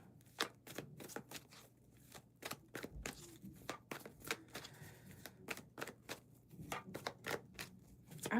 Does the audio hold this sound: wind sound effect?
no